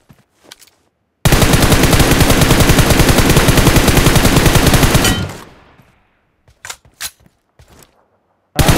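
Gunfire from a gun in a video game, a loud sustained rapid-fire burst lasting about four seconds that trails off, followed by a few scattered shorter bursts.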